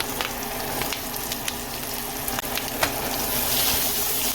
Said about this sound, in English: I'm going to use this bacon grease, add the Brussels sprouts here.